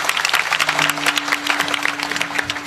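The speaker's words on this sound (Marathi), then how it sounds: "एकदा जोरदार टाळी वाजवा दोघांकरता जोरदार एकदम" Audience at a Marathi kirtan breaks into loud, dense applause, many hands clapping together in a sustained close burst with a faint tonal hum beneath.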